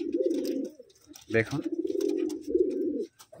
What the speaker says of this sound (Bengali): এই হচ্ছে নর পায়রা, এটা হচ্ছে মাদি পায়রা